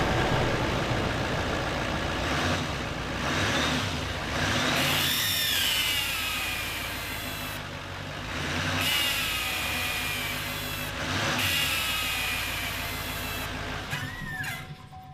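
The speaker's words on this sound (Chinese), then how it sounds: "不过踩油门的时候，发动机舱会传出这种奇怪的声音。" A Chevrolet pickup engine in an indoor garage revs repeatedly after a new intake pipe was fitted, and a loose intake duct raises an odd, cat-like whining yowl over the steady engine rumble, rising and falling with each throttle blip.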